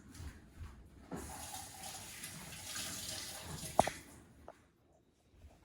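Running tap water gives a quick rinse in a kitchen sink while making meatballs, a soft, close splash that swells, then ends with a brief clunk before near silence.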